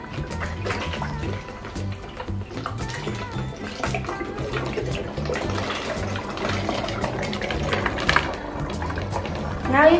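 Water swirls inside an upended plastic bottle from a National Geographic earth science kit, forming a vortex: a steady, close, bubbling gurgle and rushing trickle that continues throughout with no pauses.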